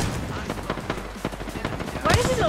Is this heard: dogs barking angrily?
no